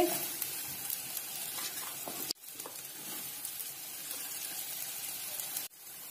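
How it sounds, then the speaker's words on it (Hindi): French fries fry in mildly hot oil in a pan over a medium flame, giving a soft, steady crackling sizzle broken by two brief cuts. "अब हम फ्रेंच फ्राइज को फ्राई करेंगे और थोड़े थोड़े करके हम इसमें ऐड करेंगे"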